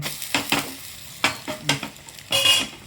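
An egg omelette cooking in a covered pan without oil is flipped, giving several short bursts of sizzling and spatula scrapes spread across a few seconds, close and fairly loud.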